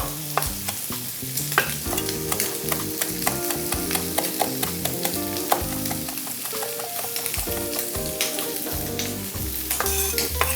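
Garlic and vegetables fry loudly in a pan, a dense steady sizzle broken by frequent clacks and scrapes of stirring, close up with no talking.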